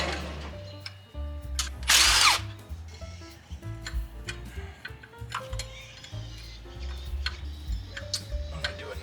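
Clicking and ticking of a ratchet wrench loosening a big-block power steering bracket on a retired dirt racing truck, with quick repeated clicks and a louder metallic burst near two seconds over a low engine-bay hum.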